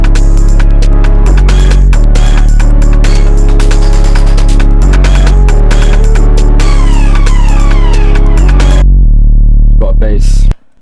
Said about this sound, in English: my favorite part of the song, someone actually put me on Twitter for this, but the siren, I love sirens